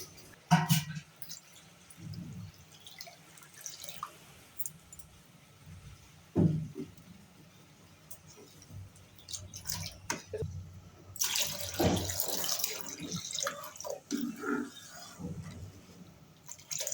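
Water is poured into lentils cooking in a pot on a gas stove, giving splashing, trickling bursts that come and go, loudest near the end, close to the listener.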